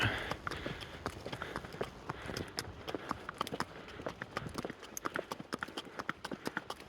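Hooves of horses on the move beat out a quick, irregular patter of sharp knocks. The steps sound fairly close and run steadily throughout, with light outdoor noise behind them.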